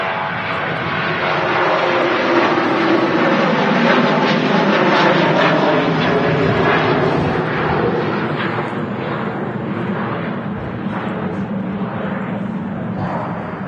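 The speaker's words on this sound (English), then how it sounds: "Ryanair's off to Eindhoven" Ryanair airliner taking off from Manchester Airport, a loud, continuous jet roar that stays strong throughout and eases slightly toward the end.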